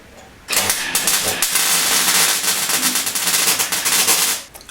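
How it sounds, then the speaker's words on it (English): Tack welding on a car's replacement rear panel: a continuous crackling, sputtering burst of a few seconds, loud and close, with no talking. "So I'll just weld in a couple of little tacks to hold it there"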